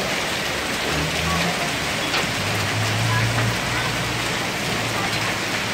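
Steady dense patter of hail or heavy rain drumming over a sheltered car, a constant loud hiss with no breaks, alongside a low hum.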